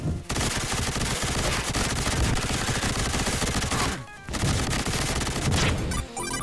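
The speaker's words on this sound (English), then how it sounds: "machine gun cannon" Rapid, continuous heavy video game machine gun cannon fire blasts loudly and densely, with a brief pause partway through before resuming.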